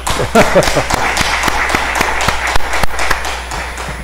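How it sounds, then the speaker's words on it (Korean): A church congregation claps in a fairly regular rhythm, a series of distinct near claps with some looser clapping mixed in, over a low room hum. "박수 한번 더 치겠습니다"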